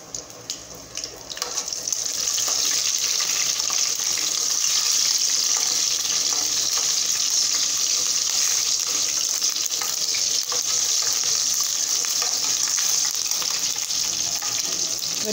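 Green chillies dropped into hot oil for a coconut chutney tempering, a loud steady hiss and crackle of frying that starts suddenly and holds for over ten seconds.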